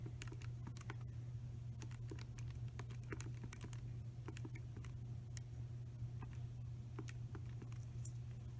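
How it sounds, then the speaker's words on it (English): Calculator buttons pressed in quick irregular bursts of small plastic clicks, close and fairly quiet over a steady low hum, as numbers are keyed in for a law of cosines problem. "That means we can type that in exactly as we see it into our calculator."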